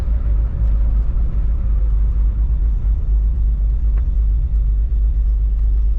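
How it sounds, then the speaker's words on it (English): A 1948 Ford F1 pickup truck with a floor-shifted three-speed manual gearbox is driving along, its engine giving a loud, steady low rumble throughout with no speech. "Today we're driving a 1948 Ford F1 pickup truck."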